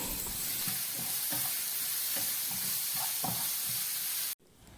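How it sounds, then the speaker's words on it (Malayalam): Crushed garlic, ginger and green chilies sauté in oil in a pan for Kerala-style prawn biryani, a steady close sizzle with soft rhythmic stirring scrapes underneath that cuts off abruptly near the end. "അതേ പാനിലേക്ക് തന്നെ കുറച്ച് എണ്ണ ഒഴിച്ച് 1 ടേബിൾ സ്പൂൺ വെളുത്തുള്ളി ചതച്ചതും 1 ടേബിൾ സ്പൂൺ ഇഞ്ചി ചതച്ചതും 5 പച്ചമുളക് ചതച്ചതും ചേർത്ത് ചെറുതായി വഴറ്റിയെടുക്കാം"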